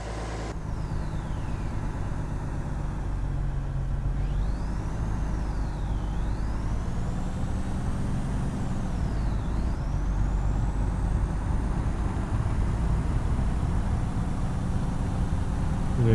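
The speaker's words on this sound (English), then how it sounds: "Did they fix the engine sounds?" A truck engine in the Australian trucking game Truck World: Australia drones steadily throughout, with rising and falling revs and a faint air-brake hiss near the start, heard alone without talk.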